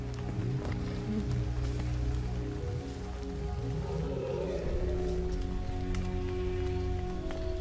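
Rain falls steadily, a continuous close patter across the surface with faint scattered knocks beneath, no voices, lasting several seconds at an even level.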